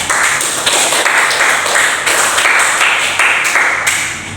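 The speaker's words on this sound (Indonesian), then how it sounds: "Diberi tepuk tangan kepada temannya." Classroom students clapping for a classmate who solved a problem, a close, fairly loud burst of rapid uneven hand claps filling the room for a few seconds.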